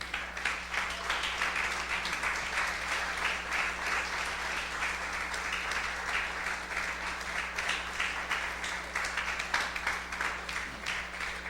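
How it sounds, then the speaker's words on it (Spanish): Church congregation clapping loudly and in unison at a Spanish-language service, a continuous rapid rhythmic patter sustained for over ten seconds, with a steady low hum underneath and no talking. "Damos fuertes palmas al nombre del Señor, hermanos."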